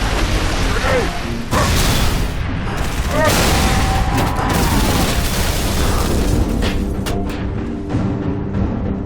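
Grenade blast and rapid gunfire in the Halo 3 ODST video game, with loud booms and bursts of shots through most of the stretch while voices shout over the combat.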